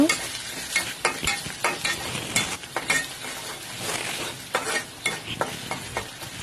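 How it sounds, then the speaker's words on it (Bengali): Dal frying in a pan with roasted coriander-cumin powder and turmeric, a steady sizzle broken by frequent scraping stirs of a spoon against the pan, close and fairly loud, with no talking. "এখানে দিয়ে দিলাম ভাজা ধনে জিরের গুঁড়ো এক চামচ হলুদ গুঁড়ো এক চামচ আর কিন্তু কোনো মশলা লাগবে না এখন এগুলো আরও দুই মিনিটের মতো ভেজে নিব"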